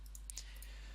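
A computer mouse button clicks a few times, short faint ticks spaced apart over a steady low hum, alone with no talk.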